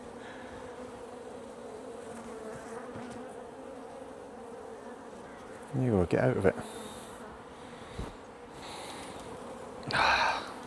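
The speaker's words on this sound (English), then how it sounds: "Why are you trying to sting me, bee?" Agitated honeybees buzzing around an overflowing hive with brood frames, a steady close drone with louder bursts as bees fly near, while a beekeeper speaks briefly over them.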